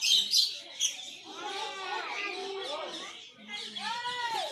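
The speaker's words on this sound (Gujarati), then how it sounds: "પક્ષી ગૃહમાં શરૂઆત કરીએ લવ બર્ડથી" Lovebirds in a park aviary give bright, rapid chirps and tweets, some close and loud, mixed with someone talking over them throughout.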